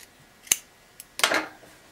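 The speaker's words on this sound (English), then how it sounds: "I'm just going to kind of clip at an angle and just trim these to like a quarter of an inch" Scissors clip and trim a fabric seam allowance at an angle while a welt pocket with a flap is sewn, a few sharp separate snips followed by a brief cluster of cuts, close and crisp with no talking.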